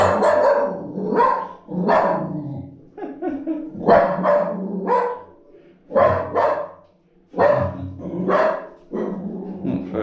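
A dog barks repeatedly in short bursts, loud and close, with gaps between volleys.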